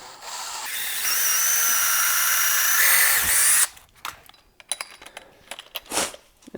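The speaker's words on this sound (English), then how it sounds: "I took a 3/8 inch drill bit and I drilled a pilot hole." A power drill with a 3/16 inch bit bores a pilot hole in a squared border board for golf simulator flooring. It gives a steady, loud whir for about three seconds, then stops, followed by scattered handling clatter and knocks.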